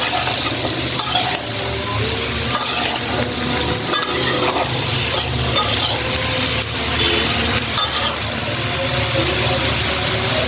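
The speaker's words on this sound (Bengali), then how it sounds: "উল্টিয়ে পাল্টিয়ে নেড়ে নেব।" Bottle gourd and prawns are stirred and turned in a hot pan, with a loud, continuous frying hiss broken by scraping strokes of a spatula and occasional clacks against the pan, and no voices.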